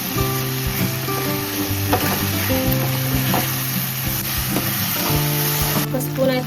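Ginger frying in a pan for a fish curry makes a loud, continuous sizzle with occasional stirring clatter, and a steady tonal hum sits beneath it.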